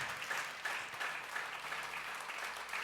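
Church congregation applauding loudly and steadily, a dense wash of clapping that holds throughout without pause.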